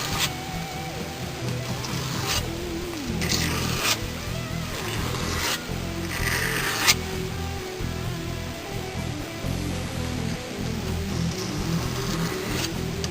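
A custom steel blade is drawn repeatedly across a sharpening stone in a few strokes each way, producing rhythmic close rasping scrapes in several distinct passes over a steady background.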